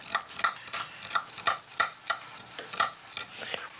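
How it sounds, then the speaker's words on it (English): A knife cuts slices from a block of cheese on a board in a home kitchen, giving a run of short, evenly spaced cutting taps, close and quiet, with no talking. "Now I trim the cheese, and I'm going to cut it into"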